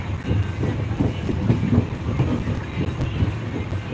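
A passenger train from Jodhpur rolls along the rails with a continuous low rumble and a scatter of rhythmic clacks and rattles, loud and close, with wind buffeting the microphone.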